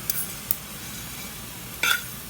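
Sesame seeds roasting in a hot pan are stirred, giving a soft steady scrape with a few sharp metallic clinks, and one louder clink near the end.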